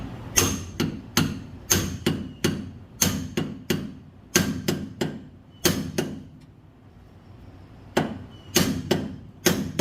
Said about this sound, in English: I'm just going to strike this with a hammer.